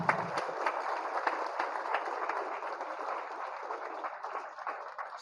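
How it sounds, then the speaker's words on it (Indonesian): Applause for students' parents or guardians at a school worship service in a high school hall, a steady broadband crowd clapping sustained throughout at moderate level. "Tepuk tangan untuk orang tua kita."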